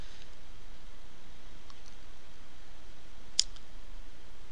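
One faint, sharp computer mouse click sounds in a quiet room, isolated and brief, with no talking.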